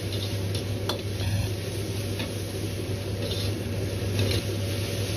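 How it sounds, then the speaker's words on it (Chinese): Chopped chives with green and red chili peppers stir-fried over medium heat in a wok, giving a steady close sizzle with light scraping and stirring clatter and no talk. "接着倒入切好的韭菜和青红辣椒，继续保持中火翻炒几下"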